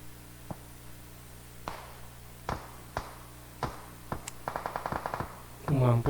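Scattered single gunshots ring out in a mobile shooter game played on an Asus ROG Phone 6, spaced cracks followed by a quick rattling burst of rapid fire and a louder blast at the end, over faint background hum.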